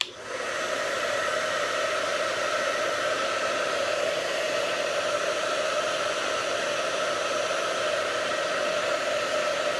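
A hair dryer blows steadily and loudly at close range, heating a Jamberry nail wrap; the even whooshing hum holds without a break for about ten seconds after a quick start, with no voices.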